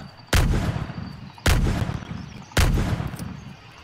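Three loud, booming gunshots from the Pirates vs Ninjas video game, evenly spaced about a second apart, each with a short echoing tail and no talking.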